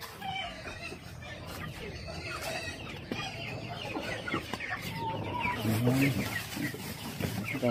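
Chicks and capons on a farm cluck and peep steadily nearby, with several birds calling over one another and a few louder squawks, while people talk in the background.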